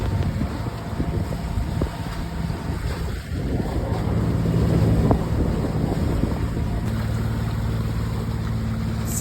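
A sailing yacht motors along off Kefalonia in the Ionian Sea, its steady engine drone running beneath strong gusting wind buffeting the microphone and the wash of water along the hull, continuous and loud throughout.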